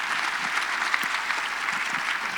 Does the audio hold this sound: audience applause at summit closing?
yes